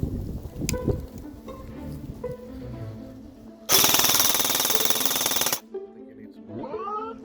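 An E&L AKMS airsoft AEG fires a loud buzzing full-auto burst of about two seconds in the middle, preceded by handling clicks and talk, then a short quiet tail.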